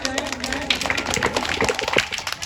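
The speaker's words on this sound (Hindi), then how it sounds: "एक बार जोरदार तालियां हो जाएं।" Children, parents and staff at a school Independence Day celebration applaud, a brisk, irregular burst of hand claps close by, with some voices mixed in.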